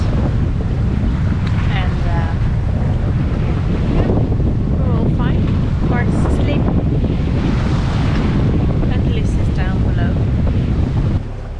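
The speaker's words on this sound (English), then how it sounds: "the sun is out and the wind starts to pick up" Strong wind roars and buffets the microphone aboard a sailboat at sea between Madeira and the Canary Islands, with waves washing and a boat's rumble beneath, loud and steady throughout.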